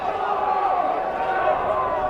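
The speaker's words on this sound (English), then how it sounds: "Drew an ooh and an ah from the crowd." A crowd at a varsity high school lacrosse game lets out a sustained, rising ooh and ah, a steady swell of many voices at moderate distance.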